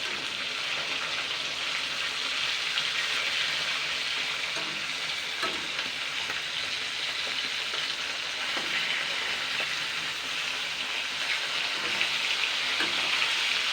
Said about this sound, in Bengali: এবার আমি উল্টে পাল্টে দেবো মাছগুলো সব।